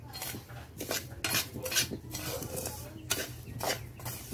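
Spoon scraping and stirring rice and corn in a pan while roasting them dark for coffee, with repeated metallic scrapes and clinks in an irregular rhythm, close up, with no talk.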